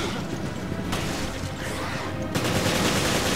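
Dense, continuous bursts of rapid gunfire with crashing impacts in the video game Resident Evil Revelations, loud and close, with no pauses across the whole stretch.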